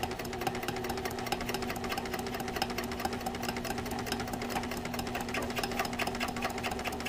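Sewing machine running steadily during free-motion quilting, meandering stitches over fabric, a continuous rapid mechanical whir and needle rattle at close range with no talk.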